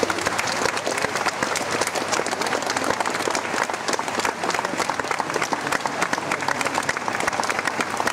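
Sustained applause from an audience honouring laureates at the announcement of song competition results in Kraków; dense, steady clapping fills the whole stretch with a crowd wash and no break.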